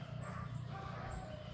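Several puppies bark and yip at once, a busy, close chorus of small dog voices that keeps going throughout, with a person nearby.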